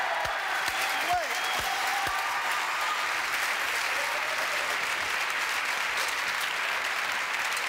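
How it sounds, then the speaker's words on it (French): Studio audience applause fills a French TV variety show, a steady broadband wash of clapping that holds at even loudness throughout, with a few faint voices briefly audible near the start. "Applaudissements, mesdames, messieurs."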